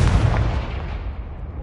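A single heavy explosion from the Confringo spell in Hogwarts Legacy, with a loud booming burst at the start that rumbles and fades away.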